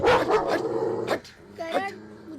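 A dog in a Hindi film scene barks loudly a few times close by, with a short whimpering yelp following, mixed with other film sound.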